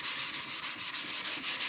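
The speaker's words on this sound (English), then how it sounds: "So you take this sanding sponge, you push down on it, anything but gently, and you just do this plenty." Rhythmic scrubbing of a sanding sponge against a guitar's wood, quick back-and-forth strokes repeating evenly and close by.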